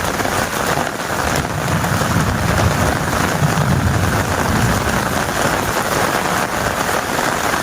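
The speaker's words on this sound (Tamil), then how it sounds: "தமிழ்நாட்டின் பல்வேறு மாவட்டங்களில் இரவு கனமழை" Heavy night rain pours steadily in Tamil Nadu, a dense, even hiss of rain on surfaces that continues without a break.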